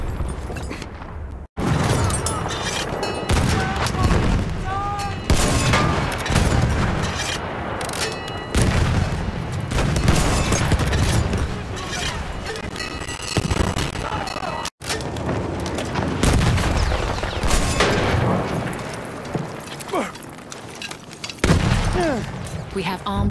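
Battlefield 1 combat in a video game with repeated heavy artillery booms and gunfire, loud dense impacts packed across the whole stretch, with brief gaps and voices mixed in among the blasts.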